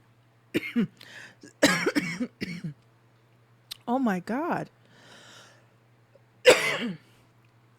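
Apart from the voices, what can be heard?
coughing fit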